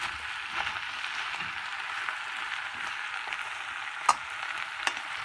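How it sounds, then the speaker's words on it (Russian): Peppers, onion and carrot frying in oil in a pan for a vegetable stew, giving a steady close hiss with a few sharp scrapes as the mix is stirred; no talking. "Немножечко вот поперемешаем это все, чтобы с маслом, с луком, с морковкой смешалось."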